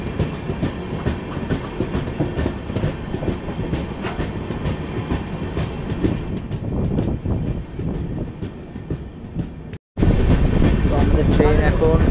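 The 13152 Jammu Tawi Express rolls along the tracks on its Ayodhya to Kolkata run, giving a continuous loud rumble with rhythmic clickety-clack, a brief dropout near the end, then the same heavy clatter again.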